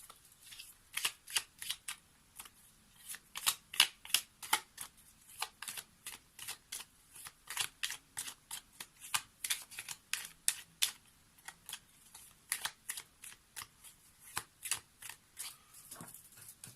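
Oracle cards being shuffled by hand, a rapid series of crisp riffling flicks and snaps in quick bursts, close and fairly quiet, continuing throughout without talk.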